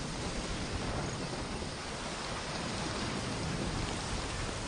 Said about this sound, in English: Gabon's forests are drenched by up to 120 inches of rain a year.